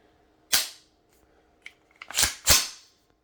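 Dry-fire trigger clicks from a SAR USA 109T AR-9 pistol with an 8.6-inch barrel: one sharp, close click, a pause, then two more crisp clicks in quick succession, with no voices.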